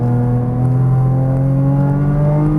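A Porsche Cayman GTS engine pulls hard on a racing track, a loud, close, steady drone with rising harmonics as it accelerates after a downshift.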